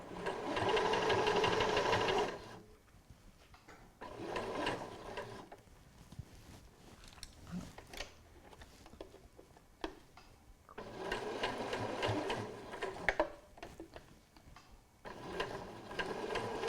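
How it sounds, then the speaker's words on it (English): Sewing machine stitching through pinned cushion layers, close whirring runs of rapid stitching broken by quiet pauses with faint handling clicks, then stitching resumes. "And then I can continue sewing."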